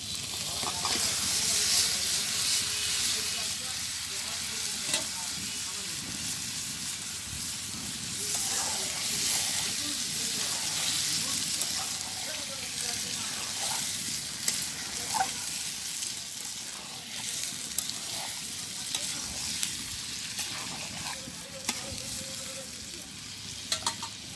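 Country duck meat tipped into a hot pan in a village kitchen, a loud, steady hissing sizzle with intermittent stirring scrapes that runs the whole stretch, no one speaking.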